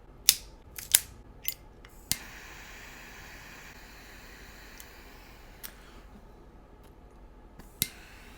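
Sharp snips and clicks of a cutter on a Joya de Nicaragua Silver cigar, several crisp close transients early and a few scattered later over quiet background hiss.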